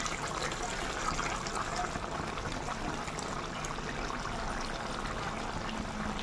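Chicken simmering in water in a pan for a Telugu-style starter, a steady broadband bubbling and hiss that runs continuously without pause, close and moderately loud.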